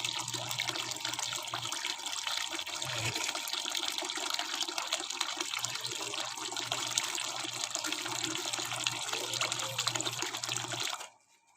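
Water pours steadily into a four-gallon container for a fermented plant juice, a continuous close splashing gush that stops abruptly at the end.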